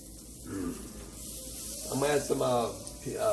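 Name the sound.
butter sizzling in a hot pan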